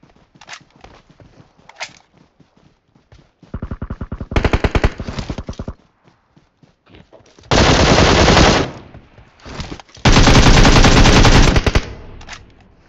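Rapid automatic gunfire from a mobile shooter game fires in several bursts, some short and some sustained for over a second, loud and close, with quieter clicks and steps between volleys.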